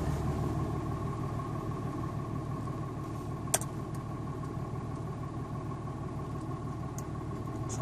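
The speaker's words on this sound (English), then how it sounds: "So you're just idling away on a 12 valve tune right now." A Cummins diesel truck engine on a 12-valve tune idles steadily at a low, even rumble with a faint whine above it, continuous and moderately near, broken once by a brief sharp click.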